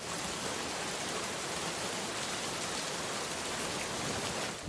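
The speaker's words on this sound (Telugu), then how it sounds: "వర్షం ఇంకా ఎక్కువైంది." Heavy rain falls in a steady, dense roar with no pauses across the whole stretch, and no voices are heard.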